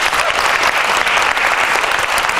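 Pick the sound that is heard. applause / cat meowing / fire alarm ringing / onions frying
applause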